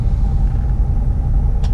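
Engine of a 1941 Cadillac Series 62 convertible sedan idling just after starting, a steady low rumble close by with no talking.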